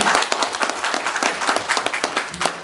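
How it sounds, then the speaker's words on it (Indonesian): Audience at a national field drill exercise bursts into dense, steady applause, many hands clapping loudly and irregularly for a few seconds. "Tepuk tangan dulu, Pak"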